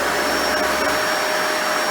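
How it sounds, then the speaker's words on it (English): Dyson Ball Animal 2 upright vacuum cleaner running on bare floor, a loud, steady close-up motor whine and airflow roar with a brief flutter partway through, no voices. "Every time you turn the vacuum on, for some reason, the brush roll always likes to turn on with."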